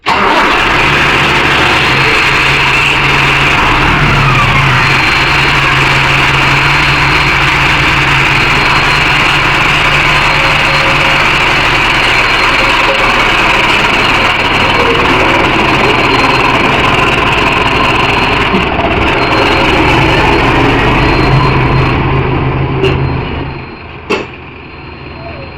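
A Mahindra Arjun Novo 605 S tractor pulls a nine-tine cultivator, its diesel engine droning loudly and steadily under load at close range for about twenty-five seconds before it eases off near the end.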